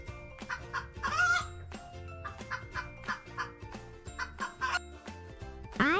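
A hen clucks in short repeated bursts over a bright, steady musical backing of a children's alphabet song, the clucks fairly clear and mid-level against the tune.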